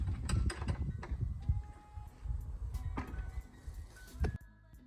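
Hand-operated press squeezing juice, with creaking, ratcheting mechanical clanks and grinding strokes in irregular bursts close by, ending in a quieter tail.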